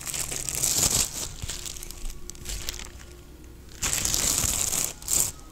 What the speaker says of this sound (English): It comes inside another protective bag, which is a plastic bag